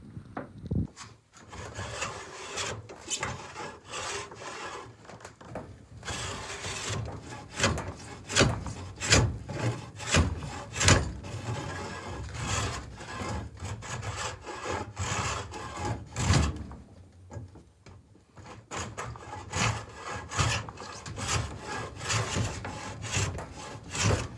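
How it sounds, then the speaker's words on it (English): Hand gouge cutting into a hard maple stock for a flintlock fowler, repeated rasping wood strokes in uneven bursts with brief pauses, close and moderately loud, no voices. "Still gouging out the barrel, but it's looking pretty good so far."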